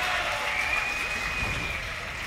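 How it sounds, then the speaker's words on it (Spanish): Audience applause fills a League of Legends esports grand final arena in Tenerife, a steady broadband wash of clapping that holds at even loudness throughout with no talk over it. "Esther, esos aplausos, por favor"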